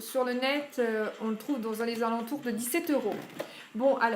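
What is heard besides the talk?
No distinct noise like a dog, phone or traffic.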